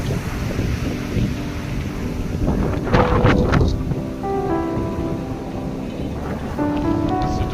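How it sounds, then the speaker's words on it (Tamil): Rough, heavy ocean surf at Lemuria beach, where swimming is banned and warning flags are up, makes a loud, continuous roar with wind buffeting the microphone; a few faint tonal sounds rise in the background. "கடல் அலையின் ஆக்ரோஷம் கொஞ்சம் அதிகமாக உள்ளது."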